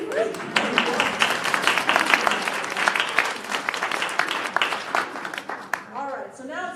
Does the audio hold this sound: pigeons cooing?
no